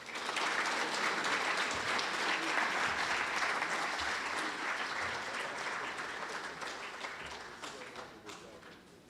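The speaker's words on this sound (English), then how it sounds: "Please, another round of applause for our chief guest, that is Engineer Peter Tum" Applause from the audience at the close of an employers' annual conference, a dense steady clapping that fills the room for about nine seconds before thinning slightly toward the end.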